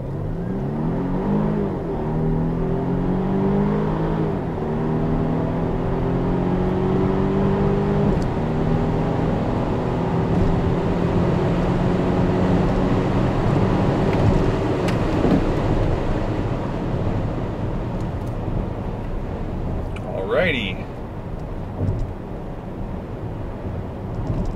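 A Volvo XC60 T8 hybrid SUV accelerates hard on a quarter-mile run, its engine drone climbing through several gear changes, heard from inside the cabin as a loud, sustained rising whir under wind and road noise.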